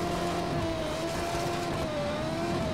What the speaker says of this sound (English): This car is really loud.